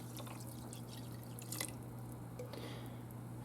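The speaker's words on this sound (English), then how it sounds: "So, in goes one large can of water." Hot water from a large can is poured into a pressure cooker for chili, a faint, splashy trickle with scattered drips over a steady low kitchen hum.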